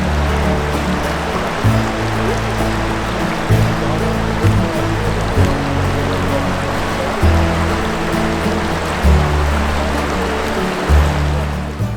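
A creek flows along a remote stretch beside a forest campsite, a loud continuous rush and gurgle of water up close with small irregular splashes throughout.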